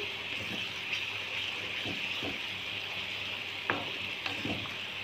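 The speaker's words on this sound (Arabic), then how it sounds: "هسخنها بقى واقوم حاطه الثوم عشان يتحمر" Minced garlic frying in hot oil in a pan, giving a steady close sizzle with a few sharper crackles and stirring scrapes, and no talking.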